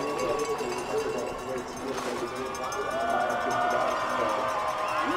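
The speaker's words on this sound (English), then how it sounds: "The crowd roar him down" Spectators at the finish of a Vancouver 2010 Paralympic alpine skiing super combined run give a sustained, swelling roar and cheer as the skier comes down. A commentator talks over it.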